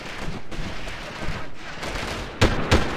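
Gunfire in the Delta Force shooter video game, sporadic distant shots amid background game ambience, with two sharper, louder bursts close together near the end.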